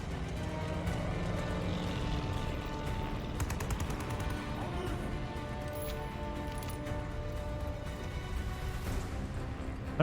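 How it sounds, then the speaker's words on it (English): A German Stuka dive bomber sweeps overhead in Call of Duty: Vanguard, its dense engine drone layered with rapid bursts of small-arms fire, all held at a constant, busy level without talk. "Stuka's coming back! Watch out!"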